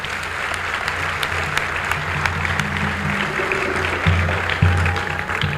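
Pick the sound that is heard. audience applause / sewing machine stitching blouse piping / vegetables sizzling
audience applause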